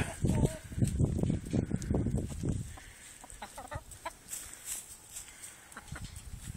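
A Delaware rooster clucks in short bursts, a loud close run of clucks at first, then softer scattered calls with faint background noise.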